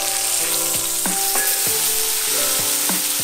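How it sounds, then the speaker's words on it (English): Three thick-cut bacon strips fry loudly in a large pan, giving a dense close sizzle with repeated short crackling pops. "Cook 3 pieces of thick-cut bacon until crispy on both sides."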